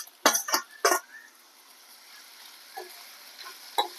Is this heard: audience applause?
no